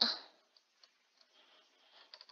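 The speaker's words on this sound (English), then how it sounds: "So you can probably hear my mouse and stuff" A few faint, sparse clicks from a laptop computer mouse, spaced irregularly in an otherwise quiet room.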